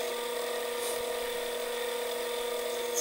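A lathe cuts a small thread-relief groove into a brass pen body: a steady, continuous machine whine with a sustained tonal hum, even and close, with no talking.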